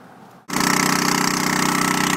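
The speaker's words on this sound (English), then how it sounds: "we have the hydraulic generator powering the machine" A hydraulic generator drives a trenchless pipe replacement machine at a New Jersey water and sewer line job. It kicks in abruptly and then keeps up a loud, steady, pulsing mechanical roar with fast rhythmic knocking.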